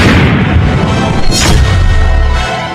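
A bomb explosion near a border army post, heard as a loud, sustained deep boom with a crashing burst filling nearly three seconds, close and overpowering, with no speech over it.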